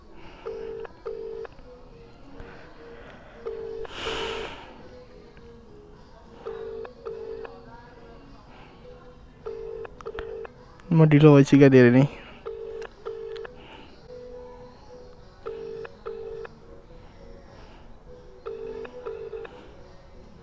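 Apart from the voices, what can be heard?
phone call ringing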